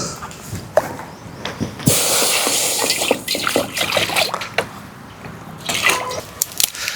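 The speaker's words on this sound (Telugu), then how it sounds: "ఈ కళాయిలో కొంచెం వాటర్ వేసుకోవాలి" Water is poured into a kadai set up for outdoor cooking near a field, making a close, loud hissing splash that swells and fades with scattered drips and clinks.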